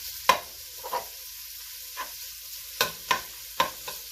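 Bacon sizzles gently in a pot while being stirred, with a low frying hiss broken by several distinct scraping strokes at an irregular pace.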